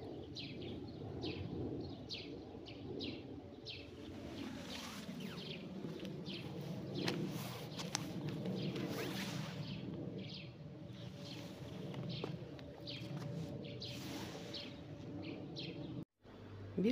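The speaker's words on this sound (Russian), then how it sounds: "Сейчас пойдем посмотрим птичек." Pigeons or doves coo softly in a garden, repeated low calls over a steady outdoor background, with brief chirps and tweets mixed in.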